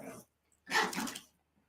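Dogs somewhere off to the side let out a short yelp, then one sharper bark-like whimper after a pause, both faint against a quiet room.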